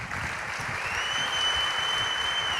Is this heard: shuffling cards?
no